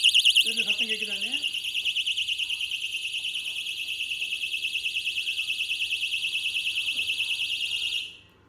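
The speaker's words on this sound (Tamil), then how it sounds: "நீங்கள் டிஸ் லாக் பண்ணிட்டீங்க ஒரு வார்னிங் வரும்" A motorcycle disc lock alarm blares after the lock is shaken: a loud, shrill, warbling electronic siren that holds steady for about eight seconds, then cuts off. A voice speaks briefly at the start.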